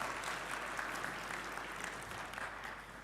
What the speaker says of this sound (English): a big applause for you again